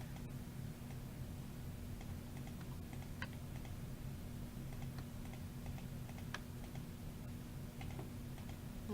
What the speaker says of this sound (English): You press down your control button on your keyboard